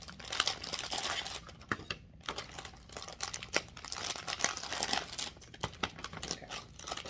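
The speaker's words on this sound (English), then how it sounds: "Let me stop all the crinkling." Loud, close crinkling and rustling of plastic packaging from a diamond art kit, irregular bursts with a brief pause midway, no speech.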